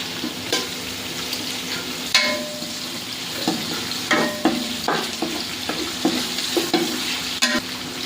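Onions go into hot oil with bay leaf and spices for chicken biryani and fry with a steady sizzle, broken by close spoon clinks and stirring scrapes at irregular intervals.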